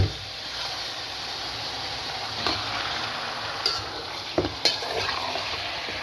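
Beef chunks frying in a karahi of hot oil for beef tikka karahi, giving a steady broadband sizzle with a few louder pops and stirring clatters near the end.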